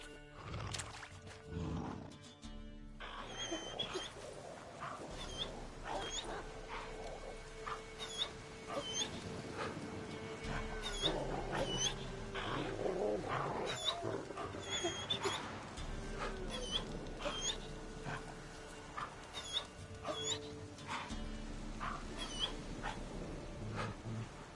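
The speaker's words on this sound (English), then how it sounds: "I sense a wolf." A wolf caught in a trap in a video game whimpers and whines again and again across a long stretch, with low growling cries over a steady game soundscape.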